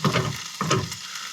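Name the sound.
bacon frying in a pan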